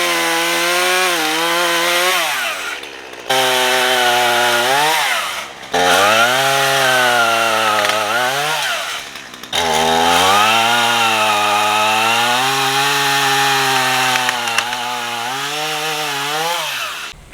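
Kerosene-cleaned chainsaw cutting trees outdoors, loud and close, the engine bogging down under each cut and revving back up in several repeated surges with short breaks between them.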